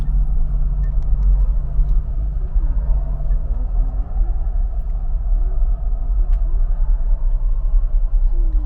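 A car driving in heavy traffic on the I-4 highway, steady low engine and road rumble heard from inside, continuous and even with no talking.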